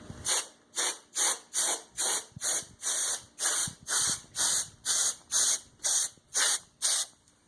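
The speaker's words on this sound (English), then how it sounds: "once you start spraying, you can spray pretty much every component" Short hissing bursts of aerosol spray on computer components, about fifteen in a steady rhythm, each roughly a third of a second, close and fairly loud with no talking.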